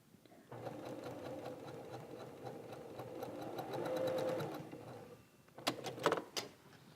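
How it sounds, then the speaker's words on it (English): A sewing machine stitches a dart and keeps running off the edge of the fabric so the threads chain together. It gives a steady mechanical whir with rapid needle ticks, then stops with a few clunks and clicks. "They just continue to stitch right off the fabric, and the threads will chain together."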